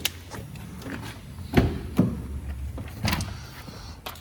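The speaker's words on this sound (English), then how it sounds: "You can close these doors." A power sliding side door on a 2019 Dodge Grand Caravan GT minivan closing, heard up close as a motorized whir with a couple of distinct thuds and latching clunks, with no talking.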